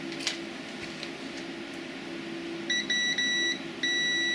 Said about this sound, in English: Got the beeper.